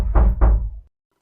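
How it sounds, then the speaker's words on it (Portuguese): Two loud, close knocks on a bathroom door in quick succession, each a heavy thud, followed by silence. "ela escuta alguém bater na porta"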